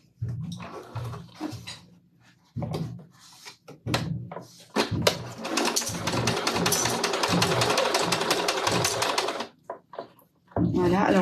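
A sewing machine runs a loose holding seam in long whirring stitching bursts, with someone talking in French in the quiet gaps between runs.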